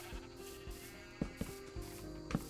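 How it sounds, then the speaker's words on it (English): Several Minecraft sheep bleat in a pen, overlapping tonal calls mixed with small shuffling clicks, close and quiet, with no talking. "that was four sheep there"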